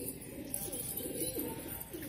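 Soft, low pigeon coos repeat under a steady background hiss, fairly close, with no talking.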